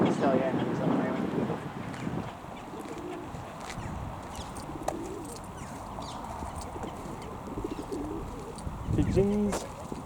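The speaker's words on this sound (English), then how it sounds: "Pigeons." Pigeons coo in soft repeated bursts outdoors during a walk, with other birds, light wind and nearby hoof-like clopping in the mix, and people talking over parts of it.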